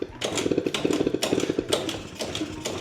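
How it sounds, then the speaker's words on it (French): A 50cc two-stroke moped engine, restarted after 18 years of abandonment, roars with loud, choppy intake noise in uneven rhythmic bursts, close up and without talking. "Oh, le bruit d'admission quoi."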